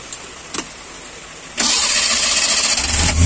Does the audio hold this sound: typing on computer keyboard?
no